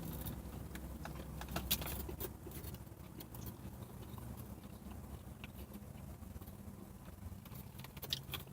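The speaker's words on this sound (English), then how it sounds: "we're on a highway next to a freeway. So there's a bit of traffic" Traffic on a highway beside a freeway makes a low, steady rumble in the background, with scattered light clicks and rattles nearby and no voices.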